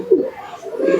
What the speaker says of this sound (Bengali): টপ কোয়ালিটির কবুতর আছে